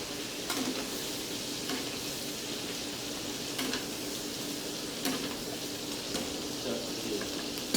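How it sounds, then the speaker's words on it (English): Steaks frying in a pan while butter is spooned over them, a constant bright sizzle with periodic spoon clinks against the pan, close and steady throughout. "we're just going to baste over this butter onto all of our steaks"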